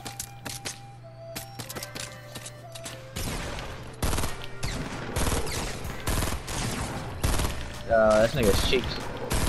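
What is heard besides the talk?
shotgun fire in the Fortnite video game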